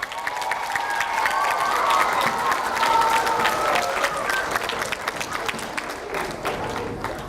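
A school district audience breaks into sustained applause with some cheering, a full crowd clapping loudly before gradually thinning toward the end.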